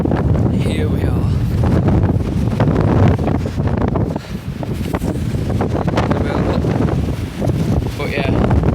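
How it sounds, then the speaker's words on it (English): Strong coastal wind at Padstow buffets the microphone in loud, continuous rumbling gusts, with a person speaking intermittently beneath the roar. "it was going to get a lot windier, and it has"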